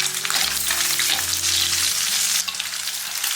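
Pork belly, ginger and garlic stir-frying in hot oil in a wok, a loud, steady, dense sizzle with scraping stir strokes and a low rumble underneath, no voices.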